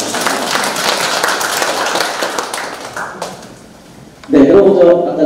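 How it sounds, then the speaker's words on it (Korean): Audience clapping for a county official at a photography association launch ceremony, a steady dense patter of hands for several seconds that thins out before a louder burst of noise at the end. "한 번 더 박수, 군수님께 박수 한 번 부탁드리겠습니다"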